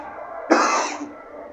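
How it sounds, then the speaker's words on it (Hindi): One abrupt, close cough cuts through a low background hum, sharp at the onset and trailing off quickly. "खांसी आ गया"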